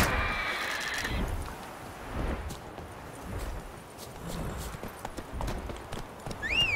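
A horse gallops in the video game Witcher 3, its hooves drumming in a rapid, steady rhythm up close, with a short whinny and other game sounds mixed in.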